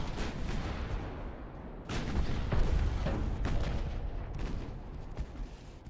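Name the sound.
ship guns and secondaries firing in a naval video game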